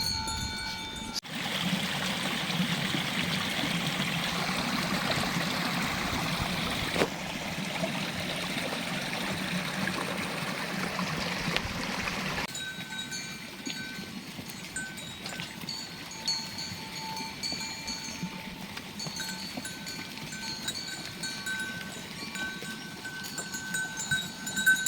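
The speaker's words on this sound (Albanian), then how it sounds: "Një tuf me dhi aktualisht zbritën në këtë zonë për të pirë ujë." Goats come down to a stream in the Albanian countryside to drink, with livestock bells clanking over steady flowing water. The water rushes loudly at first and then settles into a quieter, continuous murmur with scattered bell tones.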